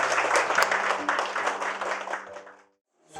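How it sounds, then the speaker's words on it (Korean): Small audience at a modest book launch for an essay collection applauds to congratulate the author: a few seconds of lively clapping that stops abruptly, followed by brief silence. "여러분 우선 박수로 축하해 주시겠습니까?"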